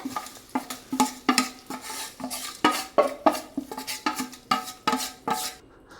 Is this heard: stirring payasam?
yes